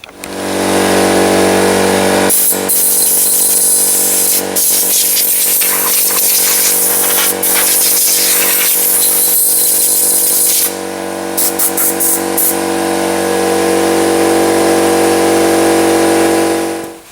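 A loud, steady hiss of compressed air blows out a brake part on a Massey Ferguson TEA20 tractor, running almost without a break and close up, with a short dip near the end.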